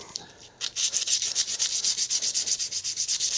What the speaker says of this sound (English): we'll just give her a little scrubbing